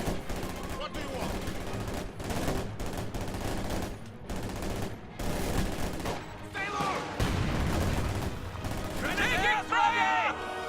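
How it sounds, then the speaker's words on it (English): Volksgrenadier rifle fire in the Company of Heroes 2 strategy game: dense, continuous crackle of rifle and machine-gun shots with scattered bangs, sustained and fairly loud, with game voice callouts mixed in. "Volksgrenadiers firing on the shock troops"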